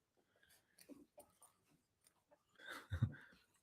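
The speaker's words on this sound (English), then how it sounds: "Ooh, good doggy." Dog breathing and snuffling close by, soft irregular sniffs and faint whimpers, ending in a louder snort-like exhale.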